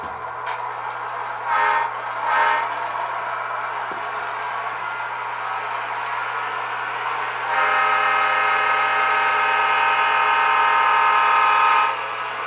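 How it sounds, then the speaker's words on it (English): A model railroad engine runs along the track, a steady mechanical hum with a constant low drone and brief louder swells, then growing louder and brighter partway through as it moves. "it'll start the engine up and run it to the other end of the track and stop it"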